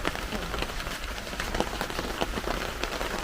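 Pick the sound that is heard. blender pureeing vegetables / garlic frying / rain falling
rain falling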